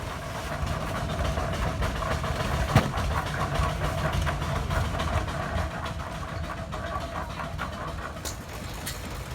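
A big old antique steam engine powering a veneer machine runs with a steady, continuous mechanical rumble and chugging, close and fairly loud, with a sharp clank near the start and a few light knocks later.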